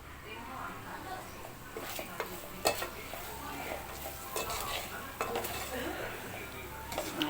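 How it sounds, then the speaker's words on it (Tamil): Food being sautéed and stirred in a pan with ground chili powder, metal spoon scraping and clinking against the pan over a low steady sizzle, while someone talks throughout. "நல்லா அப்படி வதக்கி போட்டுக்கலாம்"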